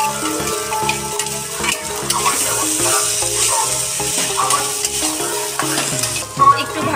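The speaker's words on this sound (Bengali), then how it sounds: "এবার আমরা চিংড়ি মাছটা দিয়ে দিচ্ছি।" Prawns go into a pan with boiled banana blossom for chingri mochar ghonto, giving a steady close sizzle with scraping spatula stirring throughout and no talking.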